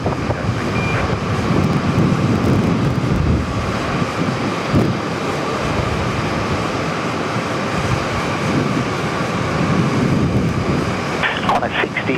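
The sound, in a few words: Qantas A380 taking off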